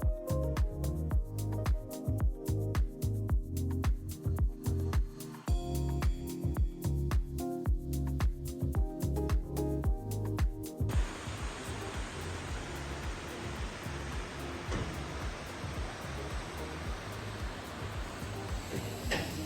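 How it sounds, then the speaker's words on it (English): A waterfall at Tiger Leaping Gorge: rushing water becomes a constant, broad hiss partway through, following a stretch of rhythmic clicking and scuffing sounds. "Look, there's a waterfall!"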